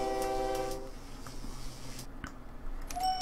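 Trains in the OpenTTD simulation game: a horn blast opens, followed by quieter rail rumble and clicks, then a second brief whistle near the end.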